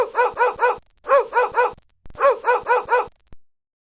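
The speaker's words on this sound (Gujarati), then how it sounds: "કૂતરું ભસે છે." A dog barking in three quick bursts of three or four sharp, close barks each, separated by short pauses, with one last faint yip at the end.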